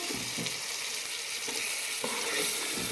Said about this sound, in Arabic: هنحط لها شويه زيت، وهنحط البصل